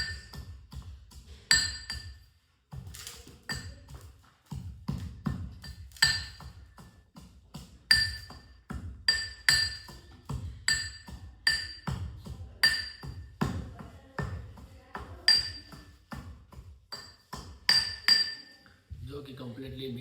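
Garlic and chili being mixed and ground in a bowl: repeated sharp clinks and knocks of a utensil against the bowl in an uneven rhythm, close and fairly loud, with brief pauses between bursts.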